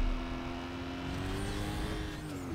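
An Aston Martin in Need for Speed Most Wanted (2005), its engine holding a steady loud drone that climbs slightly in pitch as it accelerates, close and alone with no talk.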